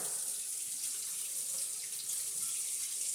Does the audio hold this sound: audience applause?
no